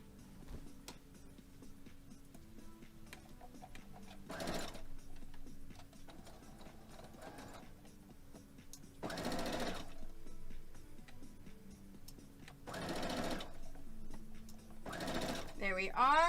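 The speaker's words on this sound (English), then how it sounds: "I'm gonna sew both of these seams at the same time using my scrap fabric" A home sewing machine stitches two quilt-block seams at once through scrap fabric, its rapid mechanical whir running in several close bursts of a few seconds each, separated by quieter pauses while faint room noise continues between them.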